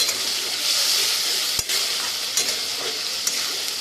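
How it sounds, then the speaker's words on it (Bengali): Masala spice paste with coriander leaf and green chilli paste frying and being stirred in a pan, a steady close sizzle broken by a few sharp spoon scrapes. "এবার আমি মশলাটা খুব ভালো করে কষাচ্ছি আবার"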